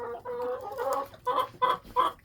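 A hen in a backyard chicken coop gives a string of soft, close clucks, a low murmur at first and then three or four sharper bursts.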